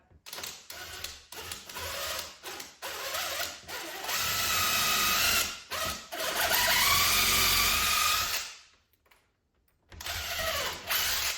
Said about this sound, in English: I'm going to try and make sure that the drill is going in nice and square to the wall